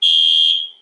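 An indoor alarm gives one loud, steady high electronic beep that holds for about half a second and then fades away, with no voices over it.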